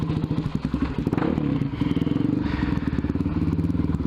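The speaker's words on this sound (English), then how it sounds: "I'm gonna ride some stairs." A motorcycle ridden down a flight of stairs, its engine running steadily while rhythmic thumps and clatter from each step repeat loudly and close throughout.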